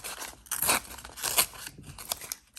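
Baking paper being handled and torn for junk journal page embellishments, giving a few sharp crinkly rips and crackles in quick succession, close and fairly quiet with no talking.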